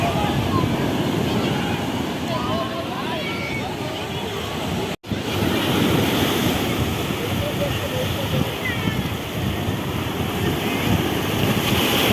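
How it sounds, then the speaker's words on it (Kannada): Sea waves at Diu Beach wash in a steady, loud surge with wind buffeting the microphone and faint crowd babble behind, interrupted once by a brief dropout midway. "ಎಷ್ಟು ದೂರ ನೋಡಿದರೂ ಸಮುದ್ರದ ಇದೆ ಅಲೆ ಅಲೆ ಅಲೆ"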